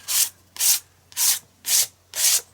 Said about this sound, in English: I'm just going to start scraping